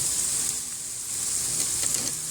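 Chopped ginger fries in hot oil in a pan, a steady close sizzle with faint crackles throughout.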